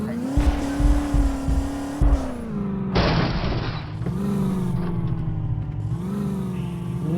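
Engine roar from a car in a driving video game, rising and falling with gear changes, with a burst of skidding tire noise and thumps in the middle; continuous and loud.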